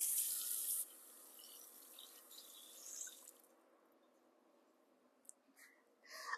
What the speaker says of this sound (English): my little Dutch oven. I'm going to rinse it out.